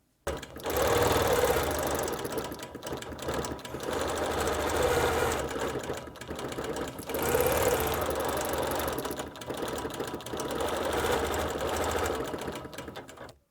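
A sewing machine free-motion quilts an appliqué wall hanging with clear monofilament thread, running in a steady loud whir with a few short pauses between bursts of stitching, alone with no voices.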